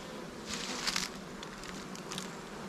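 Honey bees hum steadily around an open hive while splits are being made with queen cells present, a soft continuous drone with louder passes as individual bees fly close to the microphone.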